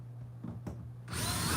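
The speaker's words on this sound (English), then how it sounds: "start removing all of these square drive galvanized" A cordless power drill backs out square-drive galvanized screws from a boat bow mount for a fish finder, starting with light bits and clicks before the motor whirs up loudly and steadily near the end.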